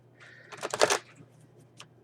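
A deck of Wisdom of the Oracle cards is shuffled in one short, quiet burst of riffling and flicking, followed by a faint tap a moment later.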